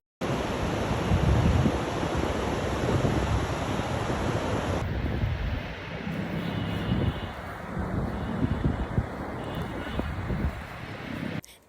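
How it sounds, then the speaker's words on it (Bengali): Sea waves roaring at Cox's Bazar beach, a loud continuous surf wash with wind buffeting the microphone, softening somewhat partway through as the breaking water keeps rumbling on. "আপনাদেরকে সমুদ্রের গর্জন শোনাচ্ছি।"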